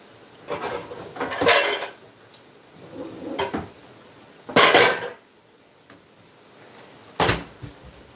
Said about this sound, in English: So I got to get another skillet.